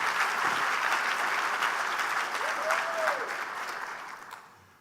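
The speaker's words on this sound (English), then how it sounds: "Let's give them all a round of applause." Sustained audience applause fills a large hall at a county government address, dense and steady before tapering off toward the end, with a faint voice briefly rising in the middle.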